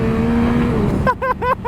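A 2022 Yamaha XSR 900 motorcycle holds a steady engine drone and then gives several sharp throttle blips as it wheelies over a hill, loud and close, with wind noise.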